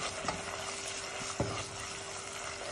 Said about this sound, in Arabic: هلا بدي أقلي اللحمة على الغاز